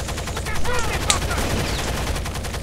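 Rapid gunfire from the Rainbow Six: Las Vegas 2 video game in a terrorist hunt on city streets, a dense burst of shots running throughout while players talk over it.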